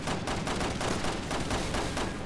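Sustained automatic gunfire in the Resident Evil 6 video game, a rapid, loud stream of shots running continuously with no talking.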